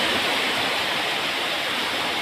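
Heavy rain pours in a dense, continuous hiss, loud and close, with no pauses or voices.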